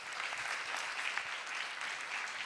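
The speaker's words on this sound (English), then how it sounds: "So let's again please give her another big round of applause." Audience applause after a Bharatanatyam Arangetram dance debut, an even, continuous patter of many hands clapping in a hall, heard at a moderate distance without voices.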